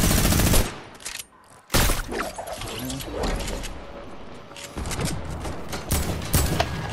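Video game gunfire from Fortnite, rapid loud bursts of automatic shots with a short gap, then sustained rattling fire and mechanical clatter continuing through the rest.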